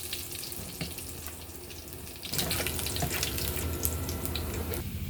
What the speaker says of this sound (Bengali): পেঁয়াজগুলো তেলে ভেজে লাল করে নেব।